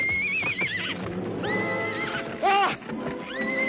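Several loud, shrill horse whinnies rise and wobble in quick succession, close by, with some shuffling and hoof noise in between.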